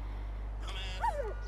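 A dog in the GTA 5 video game gives a couple of short, high yips or whimpering barks over a steady low hum.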